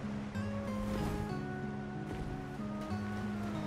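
A waterfall in the Elden Ring video game gives off a steady, soft rushing wash beneath sustained tonal game music, continuous throughout with no talking.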